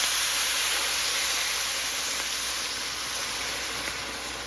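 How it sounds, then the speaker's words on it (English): Hot water pours steadily into a cooking pot of half-cooked cornmeal for Jamaican turn cornmeal with gungo peas, a continuous close, loud hiss and splash throughout. "I'm going to pour some hot water in the pot."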